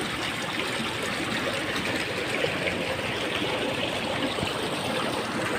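Strong water current rushing steadily at a farm in Santa Maria, Bulacan, a continuous close, full-bodied flowing roar with no pauses and no voices.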